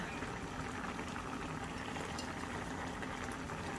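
Liquid boiling steadily in a pan, a dense continuous bubbling and seething, fairly quiet and even, with no talking.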